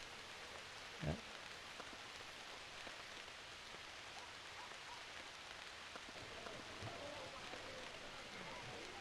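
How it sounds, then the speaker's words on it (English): Steady rain falls in the New Horizons mod, a soft constant hiss of drops with a couple of faint patters and knocks over it. "Now it started raining."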